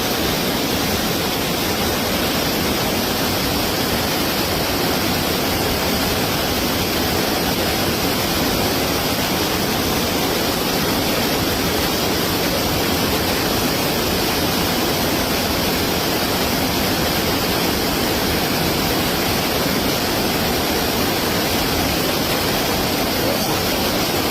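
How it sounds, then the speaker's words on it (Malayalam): Loud, continuous roar of rushing flash-flood water coming down from the hills, dense and unbroken throughout, with no pauses or other sounds standing out. "വെള്ളം കൂടുന്നുണ്ട്"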